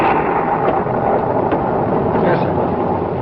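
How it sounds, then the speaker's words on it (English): A thunderstorm in an early 1950s television drama gives a loud, continuous roar of wind and rain with a deep rumbling undertone that swells slightly, filling the scene without pause. "I'm worried about that storm."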